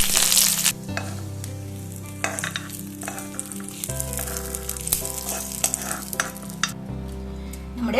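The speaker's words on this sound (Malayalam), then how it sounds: "പിന്നെ കുറച്ച് കടുക് ഇടുകയാണ്. പിന്നെ 2 വറ്റൽമുളക്, ഇച്ചിരി കറിവേപ്പില," Urad dal, mustard seeds, two dried red chillies and curry leaves crackle and sizzle loudly in hot oil for a Kerala chammanthi tempering, with spoon-stirring scrapes and sputtering pops throughout.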